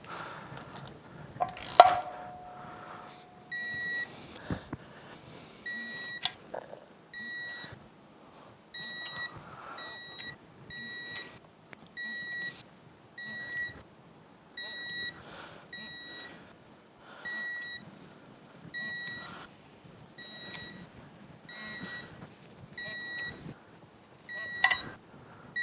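A torque wrench beeps in a long series of short electronic tones with pauses between them while bolts on a Yamaha F225 outboard powerhead are tightened, fairly quiet and close.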